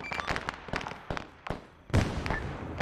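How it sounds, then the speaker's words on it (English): Friendly artillery fire in Arma 3, a rapid run of sharp blasts and crackling booms at uneven intervals, with one heavier, deeper impact near the end. "Friendly artillery north, head down."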